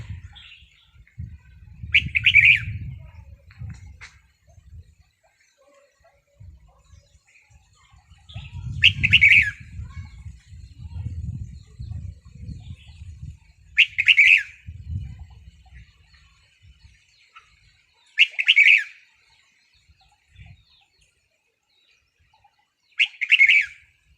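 Caged red-whiskered bulbuls sunbathing in soft sunlight give short, bright chirps every few seconds, the calls clear and fairly close, with low rustling and handling noise in between.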